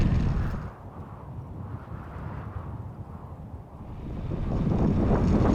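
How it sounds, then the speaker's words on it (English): Strong desert wind in Saudi Arabia kicking up sand, heard as loud low rumbling buffeting against the microphone that dips briefly and then swells again, with no talk. "there is a lot of sand being kicked up by the wind over there"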